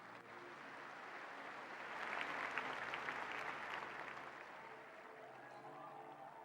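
A church congregation applauds during a sermon, the clapping swelling in the middle and then easing off, fairly distant and soft in a large room.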